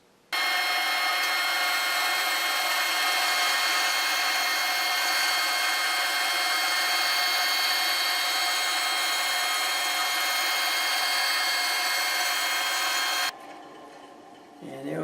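A band saw with a 3/4 inch blade and an extended table with the Accu-Slice system rips a wide wooden board into a slice 5 thousandths of an inch thick: a loud, steady whining hiss for about thirteen seconds, then it stops abruptly.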